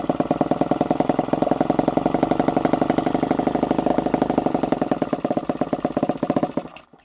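A miniature 2.2cc four-stroke model engine runs steadily at close range with a fast, even buzzing pulse, holding loud and constant before slowing and cutting out at the very end.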